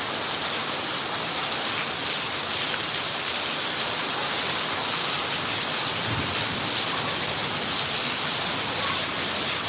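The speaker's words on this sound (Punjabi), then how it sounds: "ਹੁਣ ਪੂਰੀ ਫੁੱਲ ਸਪੀਡ ਆ ਬਾਈ ਫੁੱਲ ਮੀਂਹ ਆ" Heavy rain pours down steadily, a dense, continuous hiss of downpour that stays loud and even throughout with no voices.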